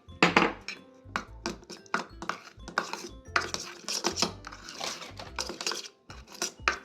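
Garlic butter being mixed in a bowl for cheesy garlic bread: repeated clinking and scraping of a utensil against the bowl in quick irregular strokes, close and clear, with no talking.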